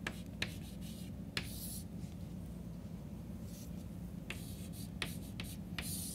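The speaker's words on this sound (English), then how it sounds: "Then I write out a few more" Pen strokes writing out numbers by hand on paper, soft scratching with a few sharper taps spaced irregularly, quiet and close, with no one speaking.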